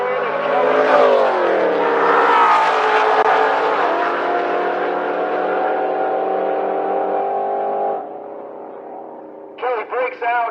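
Drag racing cars launch down the strip at the Rocky Mountain Race Week finals, one of them a Mustang. A loud engine roar rises and holds, then cuts off, and a few short bursts of voice follow at the end.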